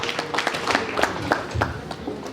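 Wedding guests clapping and ululating at a Rwandan wedding celebration, a short burst of quick, uneven handclaps from a crowd, fairly close and lively, with voices mixed in.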